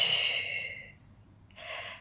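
A slow, audible breath in and out during an intermediate Pilates mat session, one airy exhale fading out and then a short breath after a pause, close and fairly quiet.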